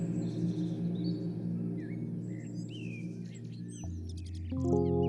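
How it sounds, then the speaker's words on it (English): Small forest birds chirp and tweet in quick, scattered calls over a steady low ambient hum, several overlapping songs near and far, fairly soft throughout. "The small bird dances about, digging and throwing the fallen matter into the air with its beak."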